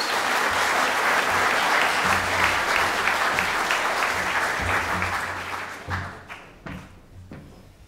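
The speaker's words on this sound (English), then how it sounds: "with a warm round of applause" A large audience at an evening talk on ISIS gives warm applause to welcome the speaker to the floor, a dense sustained roar of clapping that thins out into scattered individual claps and thuds near the end.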